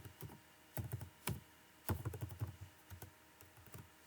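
Keys clatter on a computer keyboard as a date is typed into an Excel spreadsheet, coming in short irregular bursts of close, crisp taps with brief pauses between.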